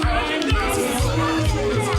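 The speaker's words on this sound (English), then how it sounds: "Oh, they're booing." A movie crowd booing, a loud sustained mass of voices jeering together throughout, with rhythmic low thumps running beneath.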